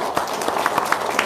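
An audience claps in a brisk, steady patter of overlapping hand claps, fairly close and without voices.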